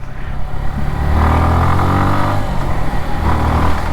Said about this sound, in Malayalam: ഭയങ്കര റിഫൈൻഡ് ആയിട്ടാണ് വണ്ടി റവ് ചെയ്യുന്നത്